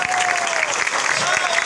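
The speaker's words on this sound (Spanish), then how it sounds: "yo quiero pedirle un aplauso de pie para los niños cantores de Villa de Cura" A crowd gives a standing ovation to a children's choir at a public event, loud dense clapping that fills the whole moment, with a voice speaking over it.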